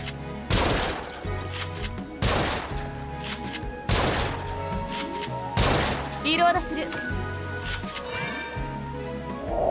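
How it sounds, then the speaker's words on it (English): Sniper rifle shots in the video game Sword Art Online Fractured Daydream crack out loudly about every second and a half, each with a booming tail, over a low musical backdrop, with rattling effects near the end. "Sinon's sniper rifle mode allows you to aim on enemies' weakness easily, allowing you to deal high amount of damage."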